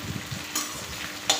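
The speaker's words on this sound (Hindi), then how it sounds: "गोभी अच्छे से फ्राई कर लेंगे।" Washed, cut cauliflower fries in a pan with fenugreek seeds and cumin, a faint steady sizzle broken by two quick scrapes of a stirring spoon.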